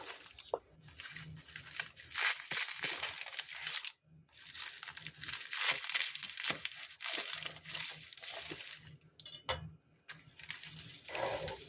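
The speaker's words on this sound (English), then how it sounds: "cut into 8 pieces for each sheet like this, cut in half first" Roasted Korean seaweed sheets are cut into small pieces, giving close, dry crinkling and crackling snips in repeated bursts with brief pauses between them.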